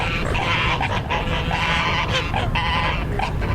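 Geese honk repeatedly at a park lake in a loud, dense chorus, calls overlapping continuously against a steady wash of flock noise.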